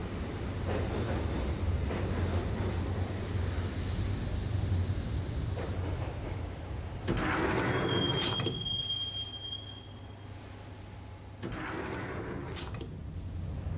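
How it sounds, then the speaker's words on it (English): A subway train ride in the video game Max Payne rumbles steadily with wheel noise, broken by a hissing burst, a thin metallic squeal and a sliding door sound partway through, with no speech. "the train doors had already shut behind me, and I was in for the ride"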